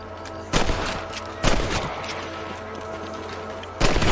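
Rifle shots ring out while hunting rabbits in a Red Dead Redemption game scene. Three sharp, loud reports are spaced unevenly over a few seconds against a steady outdoor ambience.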